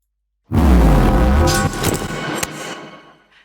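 A layered sound effect: a loud, deep booming surge topped with glittering high accents and a sharp crack, decaying over about three seconds.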